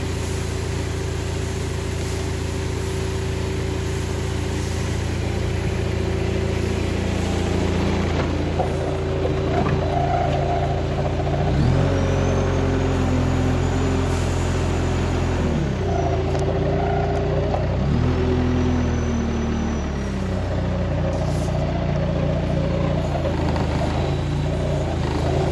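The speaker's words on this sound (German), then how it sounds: "Und der Traktor wird wahrscheinlich auch am Anschlag sein." A tractor pulling a fertilizer spreader near its limit, a loud continuous engine drone with pitch shifts as the load and revs change, running throughout without speech.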